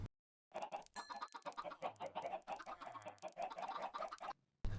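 Chickens in the Minecraft video game cluck in quick, busy bursts, many short calls overlapping at moderate level, with no talking.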